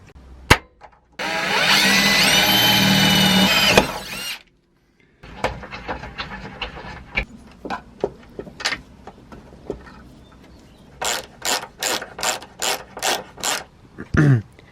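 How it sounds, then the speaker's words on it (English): M4 nutsert being set with a hand tool on a VR6 turbo car build: a burst of drilling, then a run of ratcheting clicks and metallic cranks, ending in a quick series of sharp rhythmic clicks, close and alone. "I'm gonna put a M4 nutsert in, and this bolt will thread right into that."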